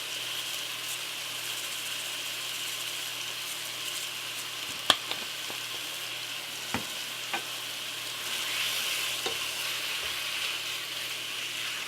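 Garlic chicken seasoned with salt, pepper and red pepper flakes fries in a pan, a steady sizzle with a few light clicks of a utensil.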